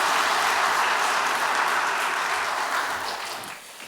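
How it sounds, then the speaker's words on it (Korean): Applause of encouragement from a church congregation during a service, a dense sustained clapping that fills the room and gradually tapers off toward the end. "귀한 간증을 해주신 우리 이동호 식구님께 격려의 박수를 올려드리겠습니다"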